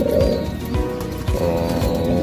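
Racing pigeons coo in low, soft repeated phrases, several calls overlapping at close range against a faint background hum.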